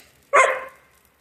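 A dog gives a single sharp, close bark in answer to a person's sneeze, with a short trailing tail and quiet before and after.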